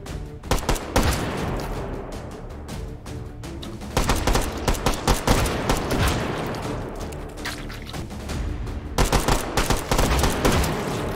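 Sustained gunfire in the VR shooting game H3VR, with dense rapid bursts of shots overlapping almost continuously, loud and close, easing briefly before volleys resume.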